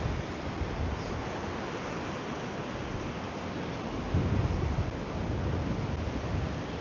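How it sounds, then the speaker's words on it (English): Ocean waves of about five to six feet break on Brighton beach in the UK, a steady, close, broadband roar of surf mixed with wind, swelling slightly louder near the end, with no talking. "Some half decent waves there,"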